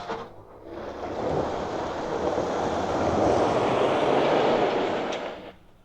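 A 2024 Ford Ranger on Falken Wildpeak AT4W tires climbs a hill in 4 low, giving a broad, rushing engine and tire roar that builds, holds steady and loud for several seconds, then fades.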